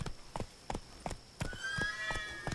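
A horse in The Witcher 3 galloping with rhythmic clip-clop hoofbeats, followed by a loud whinny, heard up close with no talking.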